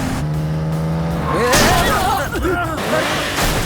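A car crash in a Hindi action movie: an engine hums under a steady tone, then a sudden loud impact hits with squealing, scraping swoops and rumbling that fade out. Voices may be shouting underneath.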